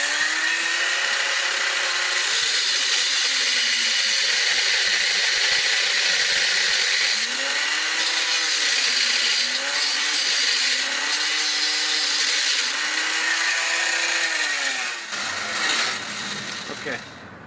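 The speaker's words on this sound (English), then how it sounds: "Handy dandy angle grinder here." An angle grinder cuts through a Toyota Corolla strut, a loud, close, sustained whine and harsh metal grinding whose pitch sags and recovers under load, then winds down near the end.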